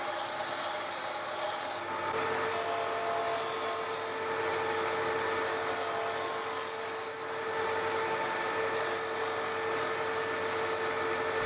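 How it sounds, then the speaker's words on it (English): A belt sander shapes and rounds a salvaged oak guitar headstock, giving a steady, loud abrasive whir that grinds on for the whole stretch with slight changes in pressure and pitch. "I straightened up this cut on the belt sander, and then did a bit of rounding and shaping of the headstock."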